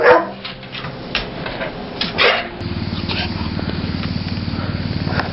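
A puppy barks and yips indoors at home while a person speaks to it, and a steady rhythmic mechanical whirring, like an ice cream maker, starts midway and runs to the end.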